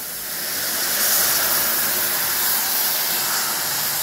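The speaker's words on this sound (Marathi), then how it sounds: "आता आपण याच्यामध्ये दूध ऍड करूया" Milk poured into carrots roasting in ghee for gajar halwa, giving a steady loud hiss and sizzle that swells after the first half second and holds evenly to the end, with no voices.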